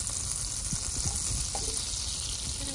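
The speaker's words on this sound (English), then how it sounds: "the energy underneath the butter is causing the butter to bubble or boil." Butter bubbling and boiling in a pan on a hot stove, a soft steady sizzle with small scattered pops, close and fairly quiet, no voices.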